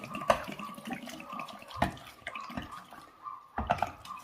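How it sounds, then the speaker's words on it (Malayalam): Water is poured into a pressure cooker in a few short, uneven splashes and trickles, close and fairly quiet, with pauses between pours. "ഇതിലേക്ക് കുറച്ച് വെള്ളം ചേർക്കാം."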